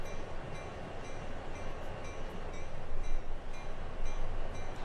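Steady broadband rumble from inside a moving train, with faint rhythmic clicks of the wheels over the rails and no voices.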